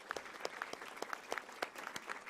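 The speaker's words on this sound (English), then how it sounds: "let's have a round of applause for this panel" Audience at a university art history symposium applauding a panel, a steady patter of many hands clapping at moderate distance, fairly soft, with no talk over it.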